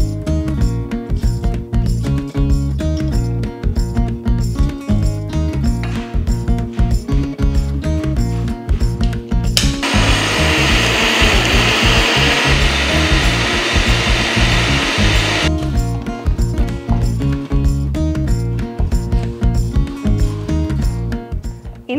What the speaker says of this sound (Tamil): இப்போ நம்ம ஊற வச்ச பச்சரிசியும் நம்ம திருவுன தேங்காயும் மிக்சி ஜாரில் சேர்த்து நைஸாக அரைச்சி எடுக்கணும்